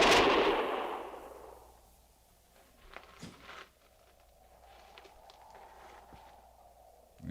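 Radio drama gunfire: a loud burst of shots at the start fades out, followed by a few scattered sharp cracks and bangs farther off against a quiet background.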